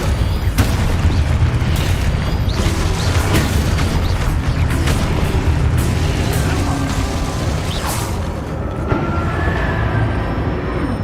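Repeated spell explosions from Confringo and Expulso in the Hogwarts Legacy video game, loud booming bursts and blasts stacked over a dense, continuous battle din with no quiet gaps.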